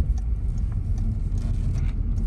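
Low steady car rumble from a Citroen C4 Cactus crossing railway tracks, a continuous drone with a few soft bumps and no distinct clatter standing out.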